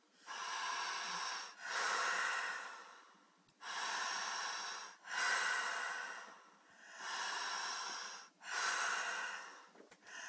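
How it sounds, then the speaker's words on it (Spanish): A person breathing in and out through the mouth during a relaxation exercise, five slow, loud, airy breaths in an even rhythm, close and alone. "Primero jalamos por la boca y soltamos por la boca."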